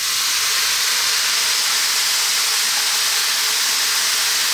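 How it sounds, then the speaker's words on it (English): A little water hits a hot pan of stir-fry vegetables, giving a loud, steady steaming hiss that fills the whole moment. "Going to add just a little bit of water."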